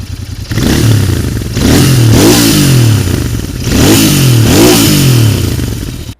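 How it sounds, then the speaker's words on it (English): Loud, close exhaust revving from a Royal Enfield Interceptor 650 parallel-twin motorcycle with a 270-degree crank, two throaty rev bursts that rise and fall with a lumpy, V-twin-like beat, no talking. "the most talked about feature about this bike is its engine, and it sounds like this."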